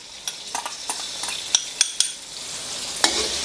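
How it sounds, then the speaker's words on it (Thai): Pounded chillies stir-fried in a few spoons of hot vegetable oil in a pan over medium heat: a steady sizzle with a run of sharp spatula clinks and scrapes against the pan, close and fairly loud, with no voices. "พอน้ำมันเริ่มร้อนใส่พริกที่เราโขกไว้ลงไปครับ"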